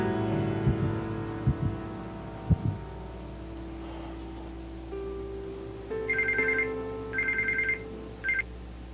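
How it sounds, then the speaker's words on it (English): Muffled thumps and a low hum give way to a phone ringing in three repeated electronic bursts, moderately loud and with no talking over it. "I can hear your phone."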